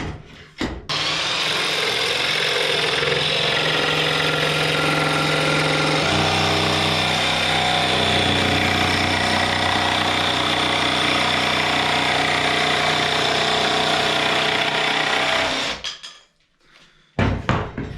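A cordless TECCPO jigsaw saws through a 7 mm laminate board with a loud, steady buzzing drone that shifts pitch partway through, then cuts out near the end, leaving brief knocks.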